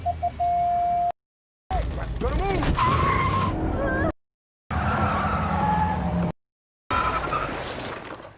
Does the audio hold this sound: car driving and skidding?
yes